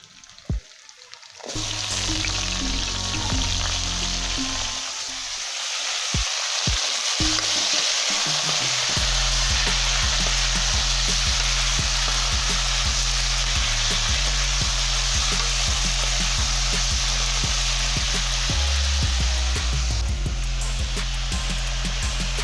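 Cowpea beans and potatoes fry loudly in a pan, a sustained close sizzle that starts after a few seconds of clattering, with a rhythmic low thumping underneath.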